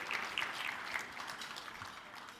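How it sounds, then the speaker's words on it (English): A conference luncheon audience applauds mayors in a brief, faint, distant round of clapping that lasts only a couple of seconds. "Please stand for a quick round of applause."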